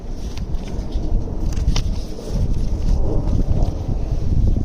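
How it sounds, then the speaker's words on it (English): Steady outdoor wind buffeting a microphone during an unboxing of an EcoFlow STREAM Ultra power unit, a continuous low rumble with gusty swells and no talking. "Sort of breezy right now."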